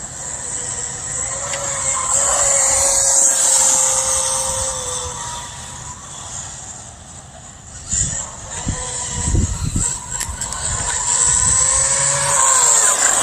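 A Rage RZX 1/6 scale 2WD 4s RC car drives outdoors, its whining electric motor rising and falling steadily, with rougher rumbling bursts midway, sounding close and fairly loud.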